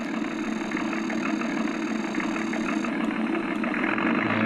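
An Accucraft Goose model locomotive runs with stiff, binding gears, giving a steady mechanical hum and whir with a faint high whine that holds constant and grows slightly louder near the end.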